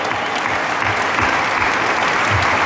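Steady, dense audience applause fills the hall for three award finalists at a Tea Party rookie-of-the-year ceremony, continuing evenly and loudly throughout with no talk over it.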